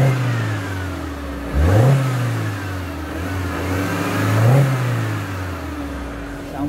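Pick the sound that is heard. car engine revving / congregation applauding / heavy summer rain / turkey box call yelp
car engine revving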